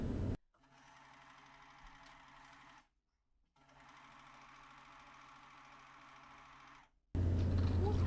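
A sewing machine stitches bias-cut fabric at a slow, steady pace in two sustained runs separated by a short pause, the motor hum close and even with no talking over it.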